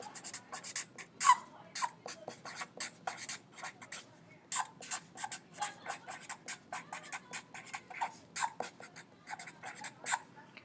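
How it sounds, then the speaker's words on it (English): Pen writing a label on a study folder, a close run of short scratchy strokes with brief pauses between words, steady and fairly quiet throughout with no talking. "First thing that I would like you to do is just label your folder."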